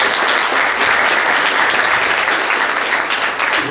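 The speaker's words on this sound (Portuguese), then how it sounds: "Mais uma salva de palmas para eles," An audience at a Fatec Assis ideathon presentation claps loudly and steadily for several seconds, a thick continuous burst of applause with no speech on top.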